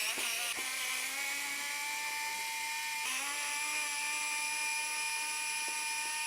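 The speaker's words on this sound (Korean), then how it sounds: "테무산 전동 드라이버 3단 토크와 LED 조명을 지원하는" A Temu electric screwdriver with three torque settings and an LED light runs with a steady, high-pitched motor whine that dips briefly and then recovers. It is close and loud, with no talking.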